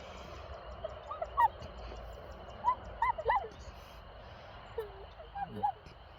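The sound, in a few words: hunter imitating turkey hen yelps, clucks and purrs with call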